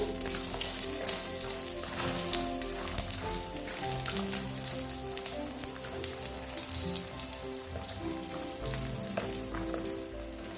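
Lentil dumplings (bori) fry steadily in hot oil in a home kitchen, giving a continuous close sizzle with crackling pops for the whole stretch and no voices.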